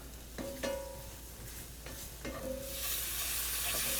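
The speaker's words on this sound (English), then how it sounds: "I'm just going to stir that around, get the raw taste out of the flour." Flour is stirred with butter in a hot skillet, giving a few soft scraping stir strokes and faint clinks over a quiet low sizzle, with the hiss swelling toward the end.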